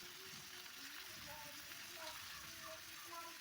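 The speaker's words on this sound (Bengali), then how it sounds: "এবার ভালো করে ভেজে নেব।" Papaya, potato and taro frying in hot oil give a steady, soft sizzle and crackle throughout, fairly quiet and even, with no talking.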